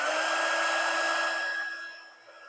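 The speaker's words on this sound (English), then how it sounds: "Hit it with the heat gun." A heat gun blows hot air onto a solder sleeve on a wire joint, a steady loud whooshing roar with a constant hum that tapers off slightly toward the end.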